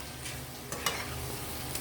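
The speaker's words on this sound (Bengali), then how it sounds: "আমি এবার চিংড়িগুলো এর মধ্যে ছেড়ে দেব।" Raw shrimp dropped into a pan of cooked spice paste, bringing a loud, steady, close sizzle of frying with a brief clink or scrape partway through.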